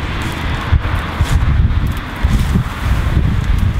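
Outdoor wind gusts buffet the microphone in a garden with raised cassava beds, a loud low rumbling roar that swells and eases in uneven waves, with faint rustling on top and no speech.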